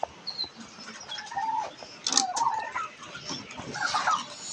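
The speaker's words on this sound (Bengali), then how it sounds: "পাশাপাশি কিছু টার্কি আছে" Turkeys kept on a small rooftop farm in Gazipur give close, repeated clucking and gobbling calls in short irregular bursts. The calls rise and fall over a low background of farm noise.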